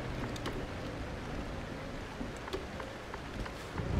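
Steady rain in Euro Truck Simulator 2, a dense continuous patter of drops heard from a truck cab, even and moderately loud throughout with no talk.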